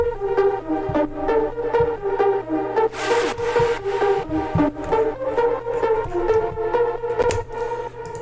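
A filtered, arpeggiated synth melody for a mainstage dance track plays over chords, a steady run of rapid plucked notes with evenly spaced rhythmic pulses and a brief swell of noise, bright and loud, with no voices.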